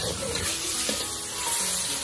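Tomato, shredded chicken, scallion and a spoonful of chili sauce are stir-fried in a hot wok, giving a steady, close, hissing sizzle with faint scraping as the food is tossed.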